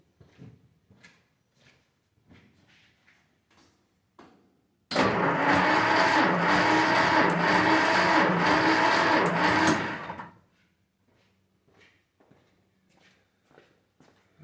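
A 1949 Plymouth flathead six cranks over on the starter during a compression test, making a steady, loud, rhythmic churning for about five seconds. Quieter shuffling and handling noises come before and after.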